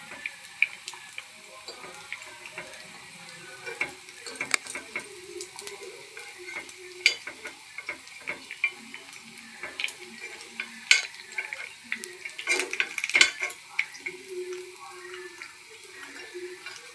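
Sweet wheat-flour kuli paniyaram frying in a paniyaram pan in a home kitchen, with a steady soft sizzle and scattered clicks and scrapes as each one is turned over, recorded close with no talking.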